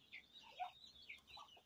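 Hens and a rooster cluck softly, a few short clucks and murmurs close by, with faint background noise and no talking.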